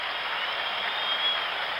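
A baseball stadium crowd at Cincinnati cheers a Reds double play during Game 4 of the 1975 World Series against the Red Sox, a steady muffled roar heard through a thin, narrow-band broadcast.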